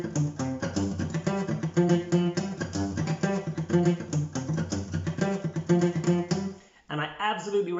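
Funk rhythm on an electric guitar played on just one string, a tight, busy run of short percussive plucked notes with a steady groove, close and fairly loud, breaking off briefly near the end before resuming.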